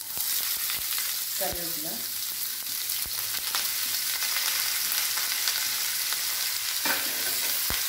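Urad dal, chana dal, mustard seeds, cumin and onions fry in hot oil for a tempering, giving a steady, close broadband sizzle throughout with a few sharp stirring knocks and a brief spoken phrase over it.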